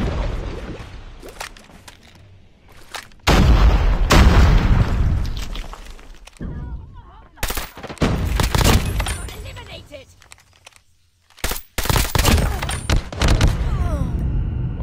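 A video game firefight erupts as a grenade blast booms out, followed by bursts of gunfire and sharp cracks, with loud impacts separated by quieter gaps and another heavy burst near the end.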